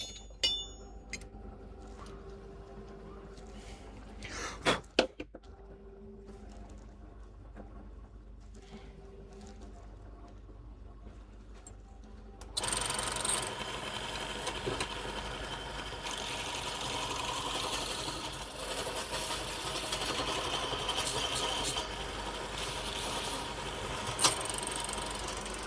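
Woodturning gouges being sharpened, first a few quiet metallic clinks and taps, then a bench grinder whirs up and runs steadily with a harsh, sustained grinding hiss for the rest of the span.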